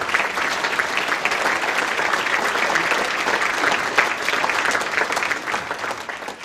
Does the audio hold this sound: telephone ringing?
no